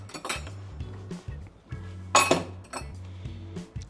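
A mixing bowl is set down and handled on a kitchen surface, giving several clinks and knocks with one sharper ringing clank in the middle, over a low steady hum.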